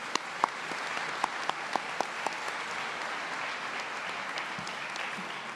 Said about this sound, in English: So why don't you all please give me a round of applause and join me in welcoming Katrina Kiefer.